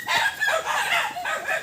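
Backyard chickens cluck repeatedly at close range, a busy overlapping run of short calls from several birds.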